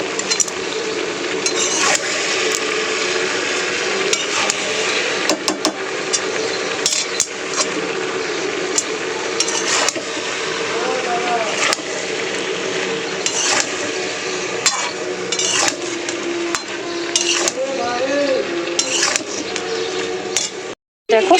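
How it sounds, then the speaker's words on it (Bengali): Soaked soya chunks are stirred with spices and potato in a pan, a steady bed of sizzling and frying that runs the whole length with frequent scraping and clinks of a spatula against the metal, close and fairly loud, with no talking. "সয়াবিনটা দিয়ে ভালো করে আমি মশলার সঙ্গে কিন্তু কষিয়ে নিয়েছি"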